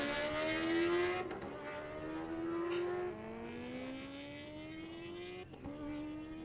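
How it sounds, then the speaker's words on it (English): Kawasaki H2R motorcycle number 24 accelerates hard from the start line at a high-speed event, its engine note climbing through gears with brief dips at shifts, heard at a distance and moderately faint. "Chris Poland getting ready to make his pass on the 24 Kawasaki H2R, just leaving the start line right now."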